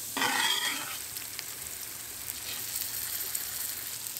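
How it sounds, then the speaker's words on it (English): Fish frying in a hot pan with vegetables, sizzling and crackling, a louder hiss at first then a steady frying sizzle, close up with no talking. "I love the moment when everything is frying separately"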